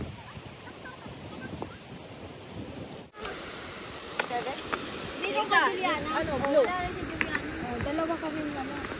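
Strong wind roars steadily across a campsite in Bo'ai Village, Heping District, a broad rushing noise buffeting the microphone while people talk over it through the second half.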